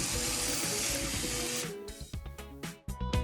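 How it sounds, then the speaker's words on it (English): Greens are washed under tap water running into a kitchen sink, a steady loud gush that breaks up into uneven splashes and sloshes as the leaves are handled beneath the stream. "Now, not only am I washing them, I'm also feeling to see if there's any stems left in those greens"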